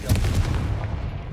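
A Confringo fire spell blast in Hogwarts Legacy erupts as a loud, close boom with a rumbling low-end burst that decays over about a second.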